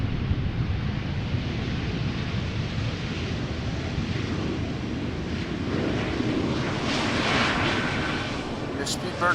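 A British Airways airliner lands at Amsterdam Schiphol after a flight from London, a broad, rushing jet rumble that swells toward the end, heard from a distance amid wind.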